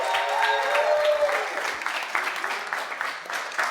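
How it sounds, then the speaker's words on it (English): An audience at a game-show season finale applauds the contestants, a lively burst of many hands clapping with some cheering tones at first, settling into steady clapping that carries on alone. "Give these guys a big applause"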